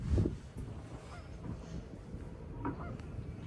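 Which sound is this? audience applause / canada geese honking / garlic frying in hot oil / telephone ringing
canada geese honking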